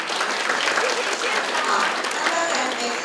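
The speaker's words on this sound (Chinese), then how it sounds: "是不是给我们人事处掌声一下" Dense, sustained applause from a crowd at a Hualien county government event, steady and close, with a speaker's voice faintly audible beneath it.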